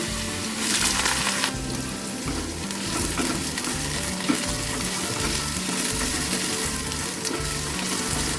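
Diced potatoes frying in hot mustard oil in a wok, a dense, continuous close sizzle with rhythmic bubbling and occasional stirring, steady throughout with no voices.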